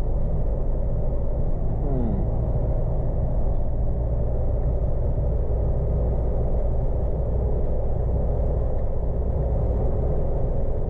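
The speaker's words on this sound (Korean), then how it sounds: "차는 엔진이 바로 밑에 있다는 거 여기" A County minibus engine, mounted directly beneath the cabin floor, drones while the bus drives, a loud, steady low rumble that holds without a break from start to finish.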